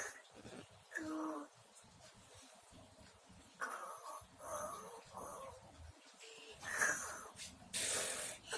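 A child imitates a father's snoring with a series of breathy, wheezing snorts that rise and fall in separate bursts, close up and loud, with short quiet gaps between them.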